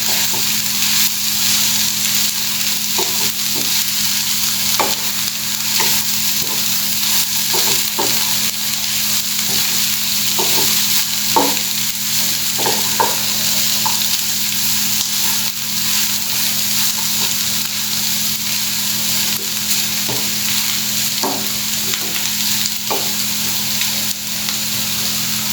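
Beef sizzling and frying steadily in a pan while being stirred, with a continuous loud hiss broken by repeated scraping clicks of the spoon throughout.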